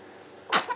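A baby lets out a single short, sharp sneeze at close range after a quiet lead-in, followed by a fainter after-sound.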